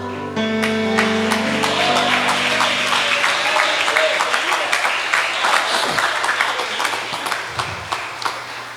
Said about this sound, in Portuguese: Assentando, aplaude também.